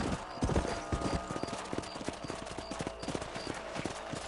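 Horse hooves gallop in a rapid, steady clip-clop rhythm in the Red Dead Redemption video game, loud and close, with no talk over them.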